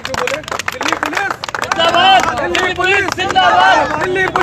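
A crowd claps in thanks for Delhi Police after a parking dispute settlement, brisk clapping blended with loud overlapping voices and cheering throughout.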